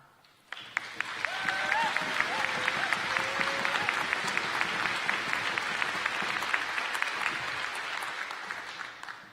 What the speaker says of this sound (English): we ask that you honor these graduates by giving them a round of applause.